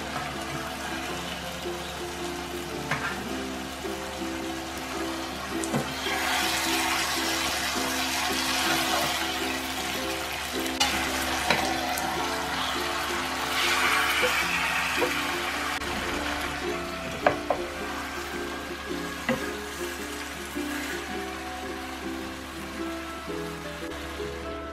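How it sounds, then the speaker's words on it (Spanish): Cheese-stuffed chicken breasts sizzle and crackle in tomato sauce in a pan, a steady close hiss with scattered pops and a few clatters, with no talk over it. "Ahora lo que voy a hacer es poner las pechugas aquí en el tomate"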